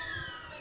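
A match-ending siren at an Australian football game between Redan and Lake Wendouree in Ballarat sounds as a sustained steady tone across the whole moment, with a loud crowd roar and cheering swelling up toward the end.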